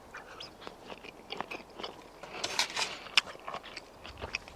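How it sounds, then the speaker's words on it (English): Someone chewing a bite of medium rare steak outdoors at a campsite, with soft irregular wet crunches and smacks close to the mouth, faint at first and a few sharper bites later. "I know you guys don't want to hear me chewing"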